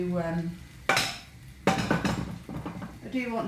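Clattering metal pans and utensils clank sharply a few times near the microphone amid faint sizzling, with brief tonal scrapes in between.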